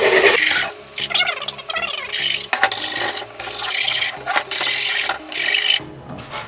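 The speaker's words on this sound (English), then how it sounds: "by grinding it down, you're taking away that sandpaper, so when you cut it, it makes it a nice clean cut." Grip tape edge on a skateboard deck being ground down with a tool, giving harsh repeated rasping strokes in bursts with short pauses, close and loud.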